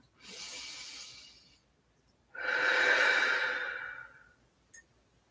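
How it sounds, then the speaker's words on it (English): Two slow, deep breaths are taken during a rest in a Pilates-style exercise: a long airy inhale, then a fuller, louder hissing exhale, close to the microphone, with a tiny click at the end. "take a break, take a breath"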